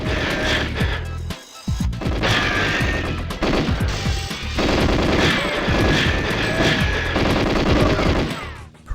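Gunfire from the video game GoldenEye, sustained bursts of shots crackling over game music for most of the stretch, with a brief drop near the start and near the end, loud and dense throughout.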